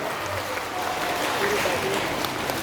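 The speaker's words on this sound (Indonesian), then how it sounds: "Tepuk tangan dulu untuk beliau." An audience at a school gathering applauding for a former primary school teacher from the Baduy interior, an even spread of clapping with a faint voice underneath.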